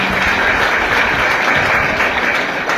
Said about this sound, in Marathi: या प्रोग्रामसाठी जोरदार टाळ्या झाल्या पाहिजे सगळ्यांसाठी